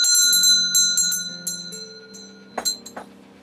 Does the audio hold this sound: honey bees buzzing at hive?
no